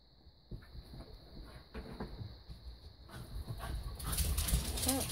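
Dogs whimpering and barking indoors, with faint whines at first that build into louder, busier barking toward the end, set against a steady high background hum while someone works on shabby-style decorating.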